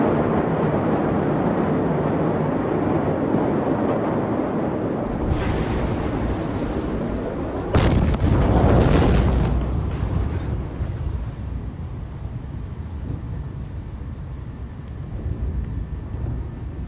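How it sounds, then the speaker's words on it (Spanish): Beirut port explosion footage: a roaring, rumbling wash of noise like wind or distant blast, with a sudden sharp boom partway through followed by a louder swell that slowly fades. "Veamos las explosiones que ya hay."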